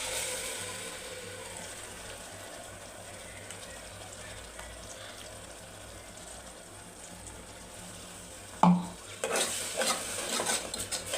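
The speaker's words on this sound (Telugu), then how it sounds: "నూనె సైడ్కి వచ్చిన దాకా బాగా వేగనివ్వాలి." Mint and tomato paste frying in oil for tomato biryani, a steady low sizzle with stirring throughout, then a sharp utensil clack near the end followed by louder, busier scraping and sizzling.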